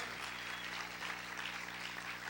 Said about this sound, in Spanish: ¿Cuántos pueden aplaudir fuerte al Señor?